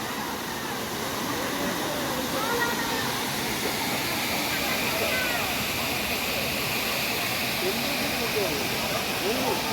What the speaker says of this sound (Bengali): খুব সুন্দর এই জলপ্রপাতটা, ভালো স্রোতে জল পড়ছে।